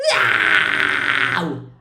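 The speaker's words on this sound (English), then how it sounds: "You can false chord scream in your head voice, so you can go quite high." A single high false chord scream in head voice, metal vocal style, rises sharply and holds as a harsh, gritty sustained cry for over a second before fading out.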